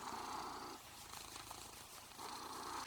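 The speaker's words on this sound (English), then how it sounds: "he has the loudest purr" A hyperactive pet cat purring loudly and close, a continuous rhythmic rumble with steady breathing cycles and no talking.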